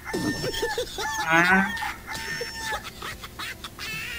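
A rooster crows once nearby, with hens clucking around it and other farmyard fowl calling in the background.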